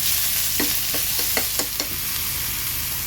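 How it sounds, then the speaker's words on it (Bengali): Mustard greens fry in a pan with garlic and onion, a steady broadband sizzle with a few sharp spatula scrapes and clicks through the middle, close and fairly loud, with no voices. "শাকটা দিয়ে দিলাম এটাও ভাজি হয়ে যাচ্ছে শাক ভাজি"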